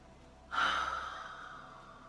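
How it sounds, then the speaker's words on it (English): A single deep breath, drawn in and let out slowly, comes close to the ear during a whole-body yoga session. It starts abruptly, then fades gradually into the quiet room with no talking. "Starting to open up your breathing."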